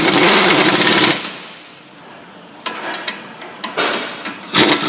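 Power tool bursts on Ford Escape strut bolts, a loud sustained rattling run at the start, then short staccato hits and a final loud burst in a garage setting.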